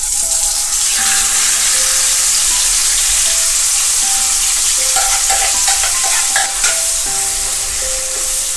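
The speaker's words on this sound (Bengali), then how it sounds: "এরপর আমি পুরো চিকেনটাকে এভাবে এখানে দিয়ে দেব।" Whole chicken pieces tossed into a hot pan of oil seasoned with bay leaf and cinnamon for Hyderabadi chicken dum biryani, stirred with a steady crackling sizzle and scraping, loud and close, with no talking.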